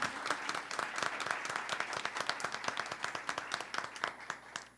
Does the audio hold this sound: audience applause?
yes